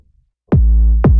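Punchy digital 808 bass sample for a K-pop style beat, two deep booming hits with a sharp click attack, the first sustaining before the second cuts in, loud and clean with no voices.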